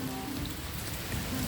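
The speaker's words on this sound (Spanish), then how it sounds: "No, tremenda la lluvia" Heavy rain pouring down steadily on surfaces near the sea during a storm, a dense, loud and unbroken hiss with close patter of drops and no talk.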